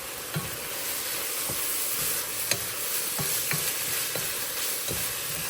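Ground turkey sizzles steadily in a pan, a continuous close frying hiss with soft scraping stirs recurring every second or so, no voices.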